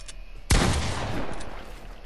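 A burst of video game gunfire erupts with one sharp loud onset and rolls on as a dense decaying rattle, with nothing else before it but faint background.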